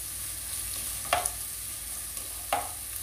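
Two green chillies sauté lightly in a pan for a broccoli dish: a soft, steady sizzle runs throughout, with two brief spoon scrapes. No one speaks.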